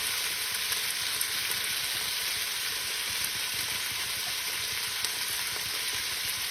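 Braised short ribs fry in a pan in a home kitchen. A steady, dense sizzle carries on throughout without pause, close by and fairly quiet, with no voices.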